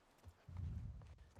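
Horse hooves clip-clop at a slow walk in The Last of Us remake, soft and fairly close over a quiet game background, with no voices.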